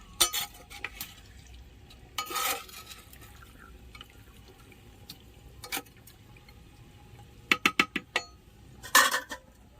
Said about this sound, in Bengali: মোটা খুন্তিটা নিয়ে আসো। বসিয়ে একবার দুবার একটু ভালো করে নেড়ে দিতে হবে।